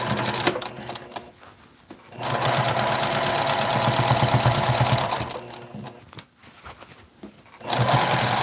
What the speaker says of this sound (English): Now I will stitch this elastic.